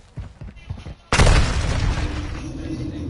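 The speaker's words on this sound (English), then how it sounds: "Enemy precision airstrike." Video game precision airstrike: after a few seconds of muffled voices, a sudden loud explosive blast hits, followed by a rumbling, crackling barrage that slowly tapers off.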